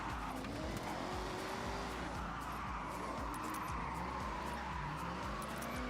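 A supercharged race car in the Forza Horizon racing game roars continuously at high revs, its engine and exhaust loud and close throughout, with tire squeal and skidding mixed in and no talk.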